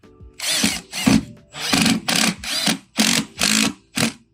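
A power drill drives two screws into a jammed door frame, its motor whining in eight or nine short, close bursts separated by brief pauses as the trigger is pulsed.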